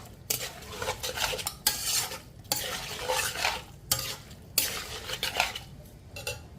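Wild boar meat frying in a large pot is stirred with a metal utensil, giving repeated scraping and clanking strokes over a steady sizzle, close and moderately loud.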